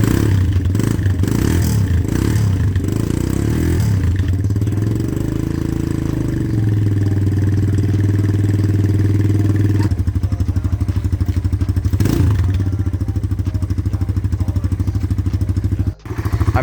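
Kawasaki dirt bike engine running steadily and loud throughout, a close idle with a shift in pitch partway through and a brief dip near the end.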